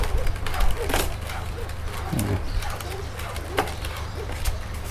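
Soft, low cooing of a small-voiced dove in short repeated phrases over steady outdoor background noise in Khao Yai, with a few clicks and rustles, moderately close.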